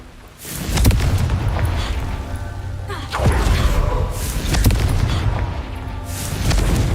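Confringo fire spell blasts in Hogwarts Legacy, three deep booming explosions in sequence, each with a rumbling tail that overlaps the next, loud and close.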